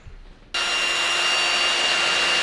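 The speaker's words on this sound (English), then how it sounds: "now it's my job to drill the hole through them" After a brief quiet moment, a power drill suddenly whines into action and grinds loudly and steadily, harsh and close, as it bores holes through metal.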